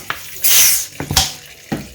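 Water splashes and runs into a bowl with vinegar for soaking while preparing Jamaican rice and peas with fried chicken, a few close, short gushes and pours separated by brief pauses.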